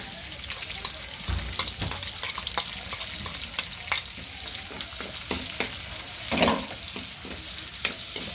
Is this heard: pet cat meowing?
no